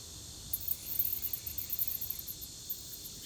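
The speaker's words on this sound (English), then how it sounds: "The cicadas are starting to come out now." Faint, rapid cicada chirring pulses at dusk in a high-pitched shimmer over quiet background hiss, rising and falling irregularly.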